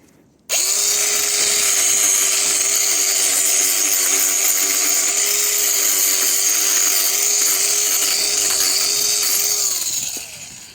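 A mini angle grinder whines loudly and steadily while it trims a miniature horse's hooves. It starts abruptly, holds one high, sustained pitch for about ten seconds with slight wavers as it bites into the hoof, then winds down.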